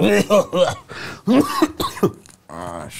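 Several short coughs and throat-clearing bursts are mixed in with casual Romanian talk among friends playing a video game. The coughs come close and fairly loud between the spoken phrases.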